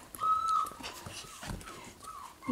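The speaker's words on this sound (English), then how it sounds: "These are 8-week-old puppies." Eight-week-old mini goldendoodle puppies give high, thin whimpers and squeaky whines, close and fairly quiet, in short bursts with soft rustling between.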